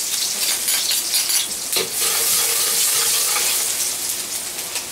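Onion and garlic sizzle steadily in hot oil for Bicol dinuguan, a dense continuous frying hiss that stays close and loud with brief crackling bursts and no voices.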